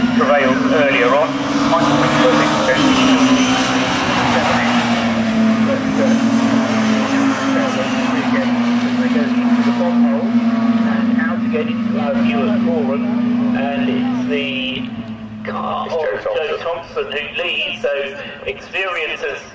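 BRSCC Mini Se7en race cars roar through Murray's at Snetterton, engines droning loud and close for most of the stretch before fading slightly, with a commentator talking over the racing.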